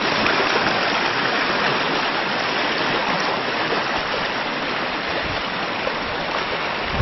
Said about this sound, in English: Here we go down the creek.